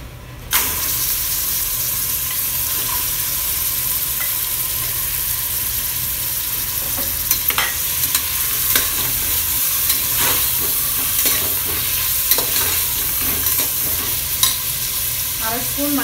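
Mutton pieces frying in oil with cinnamon, cloves and fennel, a loud sizzle that bursts in sharply at the start and then holds steady, with scattered stirring scrapes and clatters.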